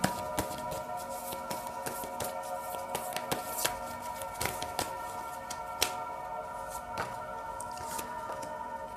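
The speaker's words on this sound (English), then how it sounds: "All right, I will shuffle tarot cards." Tarot cards are shuffled by hand at close range, a rapid series of crisp flicks and riffling snaps with no talking.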